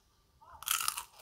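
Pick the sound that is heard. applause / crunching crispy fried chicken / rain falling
crunching crispy fried chicken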